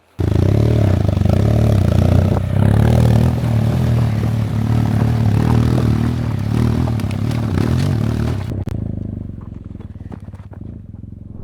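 An adventure motorcycle climbs a steep uphill on loud, steady engine drone under strain, then the engine stalls abruptly near the end, leaving faint rattles and near quiet.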